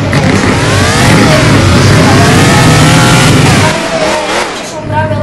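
Tesla car in the video game Driving Empire accelerating hard, a loud rising whine that climbs steadily, then dips and swoops near the end, with no talk over it.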